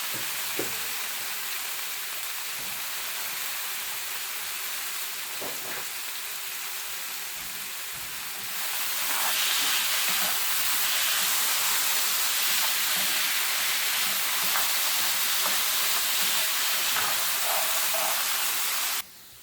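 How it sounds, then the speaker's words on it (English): Potatoes sizzle and crackle in a hot pan, the frying hiss swelling louder midway and holding steady, with occasional light clinks, no talking. "Okay, big sizzle."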